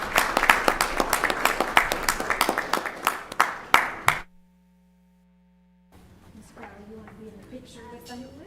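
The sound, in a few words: applause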